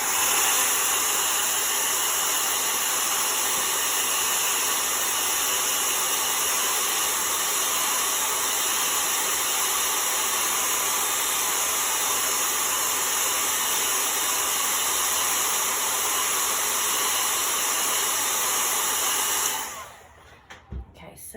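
A heat tool blows steadily over glitter craft paint, a loud continuous whooshing hiss with a motor whine that holds for about twenty seconds before cutting off abruptly.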